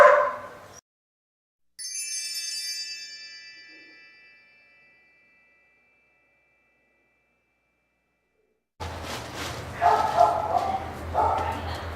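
Dogs in a daycare socialization room bark and yip in short bursts, fairly close, with a room murmur around them and a stretch of near silence between the bursts.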